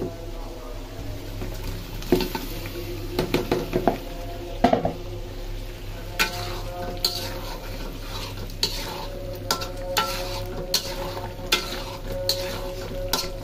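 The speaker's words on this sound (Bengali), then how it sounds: "মুরগিটা দিয়ে দেই।" Chicken pieces are stirred into sizzling spice paste in a pan, with repeated scraping and clacking of a spoon against metal over a steady frying hiss, and a voice speaks faintly in the background.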